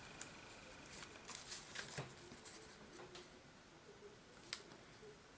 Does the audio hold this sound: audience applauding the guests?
no